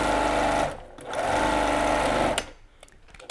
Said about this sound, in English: you're gonna head to the sewing machine using a 1/4 inch seam allowance